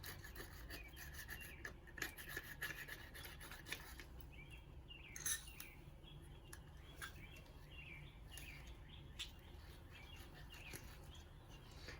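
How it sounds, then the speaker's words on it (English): Scraping and filing rasp on a Harley Flathead engine oil feed pump part being cleaned, a steady rough rubbing texture throughout with a few sharper scrapes, fairly quiet and close, with faint chirps in the background. "Scrape all that. You want this to be really clean."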